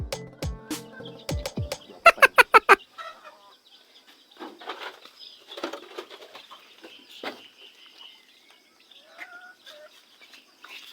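Chickens on a backyard farm, with a burst of loud clucks and squawks at the start, then scattered softer clucking and rustling movement spread over the following seconds, close by and with no talking.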